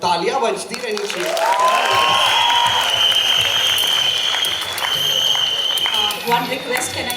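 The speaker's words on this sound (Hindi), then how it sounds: "तालियां बजती रहनी चाहिए." Loud, sustained audience applause and cheering at a college event in a large hall, with music playing and voices talking over the clapping throughout.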